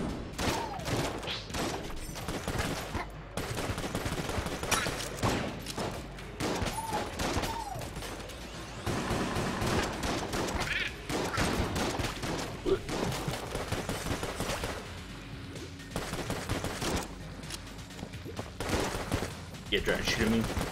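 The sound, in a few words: gunfire in video game Enter the Gungeon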